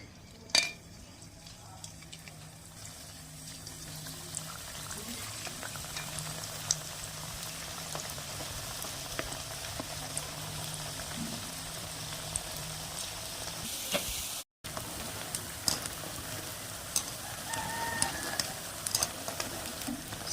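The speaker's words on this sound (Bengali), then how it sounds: "অল্প আঁচে শিম ফুলগুলো ভেজে নেব।" Potato-and-flour-battered bean flowers frying in oil in a wok over low heat, a steady soft bubbling and crackle with occasional utensil clinks.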